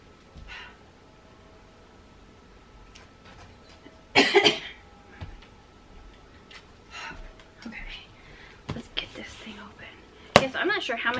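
A few short, sharp coughs at moderate volume, one burst around the middle and another near the end, separated by quiet stretches with faint murmuring.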